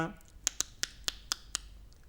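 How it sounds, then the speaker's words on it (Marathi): Hands clapping at a children's puppet show: six sharp, evenly spaced claps in a steady rhythm, fairly close and crisp, with no other sound between them. "आता टाळ्या वाजवा"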